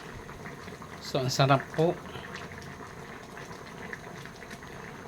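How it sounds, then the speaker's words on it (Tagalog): Chicken tinola cooked with coconut milk simmering in a pot, a soft continuous bubbling hiss under a short burst of speech from a nearby cook, then the low boil carries on alone. "Ayan, kumukulo na po."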